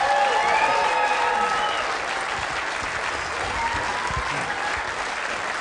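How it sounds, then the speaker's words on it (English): Loud, sustained applause and cheering fill an arena at the Weber Cup 2016 ten-pin bowling event, a crowd clapping densely throughout, easing slightly after the opening seconds. "Give them a round of applause one more time,"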